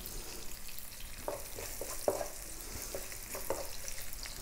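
Onion drops into hot oil with cumin seeds over just-above-medium heat, giving a faint, steady frying hiss with a few soft clicks and spatters, close by and quiet.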